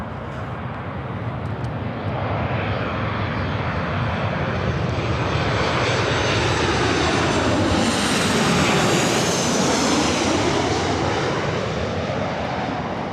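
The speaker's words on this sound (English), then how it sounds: "This arrival is Alaska Airlines 1172 coming in from Portland on the 737-900ER." An Alaska Airlines Boeing 737-900ER arriving from Portland at Los Angeles airport roars past loud and close, its broad jet rumble rising and sweeping with a clear Doppler shift at the peak, then easing off.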